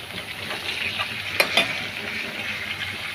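Fresh brinjal pieces fry in oil in a pan with a steady, even sizzle, broken by a couple of sharp utensil clinks against the pan midway.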